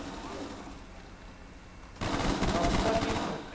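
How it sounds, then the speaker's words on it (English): Full-auto gunfire from a weapon with extended magazines in Black Ops. The clip starts with a quiet stretch, then a sudden loud, rapid burst of shots runs for about a second and a half before it cuts off. "why am I firing at full auto?"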